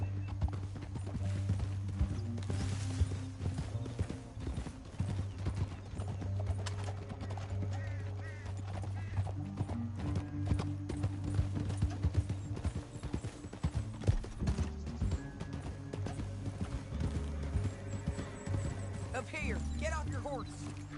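Horse hooves clip-clop steadily in a Western video game, the rhythmic clopping running throughout under a dense bed of music and voices, with an occasional whinny.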